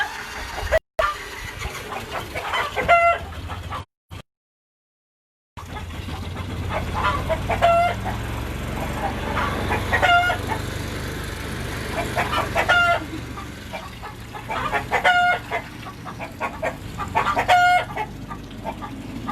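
Chickens on a farm cluck repeatedly in uneven bursts, close and fairly loud, with a rooster-like call among them, over a soft outdoor background and faint voices; the sound briefly cuts out near the start.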